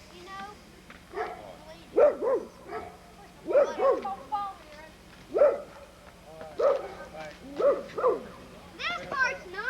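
A dog barks repeatedly in short yipping bursts, fairly close and loud, with whimpering yelps between them, while a voice talks nearby at a house under construction.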